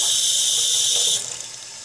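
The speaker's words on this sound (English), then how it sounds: "so I'm going to wet this brush." A tap runs to wet a makeup brush with a bright, steady hissing stream that is loud and close, then drops as the flow changes, leaving softer splashing and trickling with no talking.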